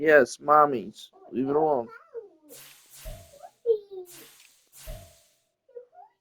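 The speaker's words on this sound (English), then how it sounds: "That's definitely a cat." A cat meows indoors, a few short plaintive calls after someone speaks to a child, the meows moderately close and separated by pauses.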